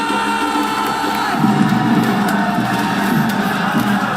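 An arena crowd at the PUBG Mobile World Cup grand finals cheers and shouts loudly throughout, with whoops rising in a swell midway through a dense, continuous roar.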